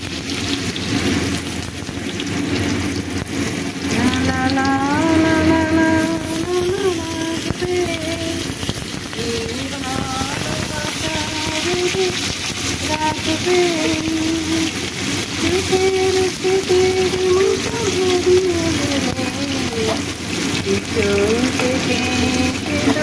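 Potatoes fry with spices in a pan for a pumpkin dish, giving a dense, continuous close-up sizzle that runs the whole time, with faint voice-like tones drifting over it.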